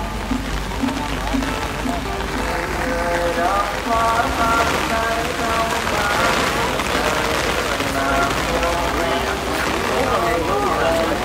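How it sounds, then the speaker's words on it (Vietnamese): Heavy rain pours steadily during a gusty downpour at an outdoor gathering, a dense continuous hiss under a voice speaking throughout. "Như các cô chú các chị thấy thì mưa bắt đầu lớn rồi ha."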